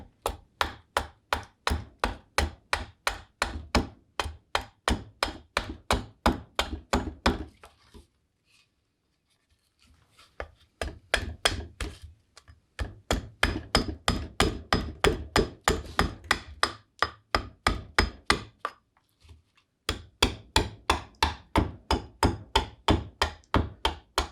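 Rhythmic carving cuts into green wood shape a heart-shaped bowl braced against a stump: close, rapid, steady strokes in long runs broken by a few short pauses.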